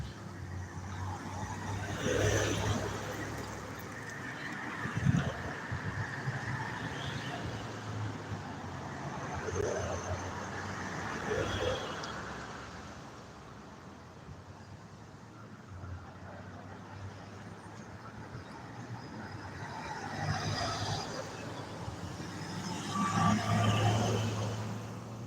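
Passing road traffic heard from a roadside spot, a steady wash of cars and trucks rolling by with swells as each vehicle nears and fades, including a louder pass near the start and another toward the end.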